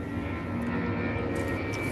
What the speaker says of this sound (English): The planes always pass by my place and they make a lot of noise.